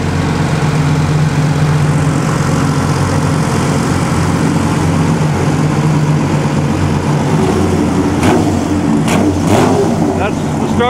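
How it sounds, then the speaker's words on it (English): A 12-cylinder car engine runs and revs at the 2015 Amelia Island Concours, right beside a generator, its steady drone blending with the generator's constant hum while voices talk over it throughout. "but you can still hear the 12 cylinder."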